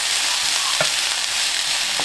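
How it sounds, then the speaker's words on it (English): Chopped onions, bell peppers and tomatoes fry in a little oil for a breakfast recipe, giving a steady, loud broadband sizzle with a couple of brief stirring clatters, close up and with no talking. "In a little bit of oil, we'll cook all these ingredients until they're properly softened."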